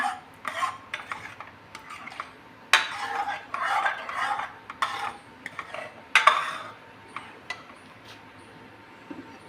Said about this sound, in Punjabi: ਕੜਛੀ ਦੇ ਨਾਲ ਲਗਾਤਾਰ ਹਿਲਾਉਂਦੇ ਰਹਾਂਗੇ ਆਪਾਂ ਇਹਨੂੰ